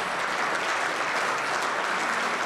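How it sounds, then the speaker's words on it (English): A crowd at a party state conference claps continuously, a steady wash of applause at even volume throughout with no clear voices on top. "welcomed with a stirring round of applause from the party faithful"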